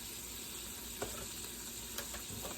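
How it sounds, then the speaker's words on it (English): Carrots and garlic sautéing in butter with Italian seasoning and herbes de Provence, a soft, steady sizzle with a couple of light stirring taps, quiet and continuous. "saute with the butter and carrots and garlic"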